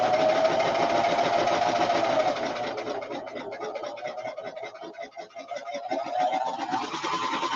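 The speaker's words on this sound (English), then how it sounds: "I'm going to change my differential feed all the way to 2. And I'm just going to stitch." A sewing machine stitches fabric with the differential feed set to 2, giving a fast, steady mechanical whirr that shifts slightly in pitch as the run goes on, close and loud with no talking.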